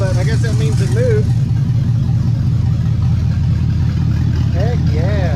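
An LS-swapped Chevrolet C10 truck engine runs steadily at a loud, close rumbling idle throughout, with a low continuous drone and brief tonal whines near the start and end.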